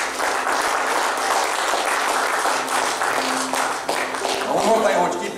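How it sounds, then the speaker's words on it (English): A church congregation claps in praise, a thick and sustained round of applause mixed with voices and calls throughout. "Give Lord a hand clap of praise."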